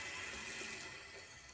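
Tap water runs steadily into a bathroom sink while it warms up, a continuous soft hiss and splash with no speech over it.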